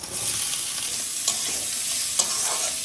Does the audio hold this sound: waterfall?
no